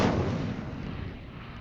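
A short burst of the Incendio fire spell from Hogwarts Legacy, a loud whooshing flare of flame that starts sharply and fades out over about a second and a half.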